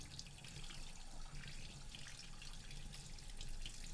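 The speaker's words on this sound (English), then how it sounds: "Give it a good wash under the tap." Steady running water from a kitchen tap splashes over a Bengali koi fish as it is washed, a continuous close hiss and patter lasting throughout with no talk.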